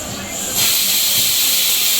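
A mixer grinder switches on and crushes coconut chutney with curd and salt, jumping abruptly into a loud, steady whirring roar that holds to the end.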